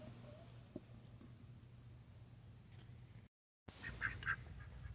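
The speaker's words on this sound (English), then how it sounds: "Got some ducks that are underneath the container." Baby ducks hidden under a container at an outdoor garden give a couple of faint, high peeping quacks near the end, over steady low outdoor hum and background noise.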